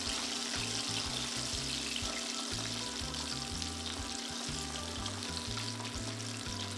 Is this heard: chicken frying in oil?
yes